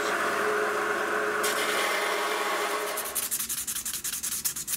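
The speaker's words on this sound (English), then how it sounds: "I've drilled some holes in some nickel silver, and I'm just shaping it to the right dimensions." A nickel silver guitar pickup base plate for a P90 is shaped by hand: a steady loud rasping file or sanding stroke first, then quick rhythmic back-and-forth strokes, up close.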